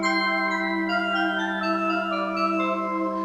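A Yamaha PCI synth card rig plays a bell pad holding a steady, shimmering chord with bright bell-like partials shifting gently on top, sustained and even throughout.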